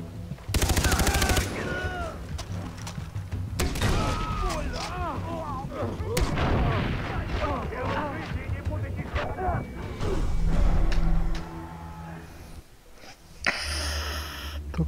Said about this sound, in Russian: Только что я выстрелил два раза из гранатомета в забор, в стену, тупо в стену.